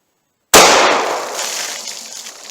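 A single sharp .45 ACP pistol shot firing a Critical Duty 220 grain round, a loud close crack with a ringing, slowly fading tail.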